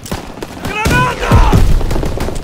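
Grenade blast in Call of Duty WWII amid a rapid gunfight, with booming thuds and bursts of gunfire layered under an excited shouting voice.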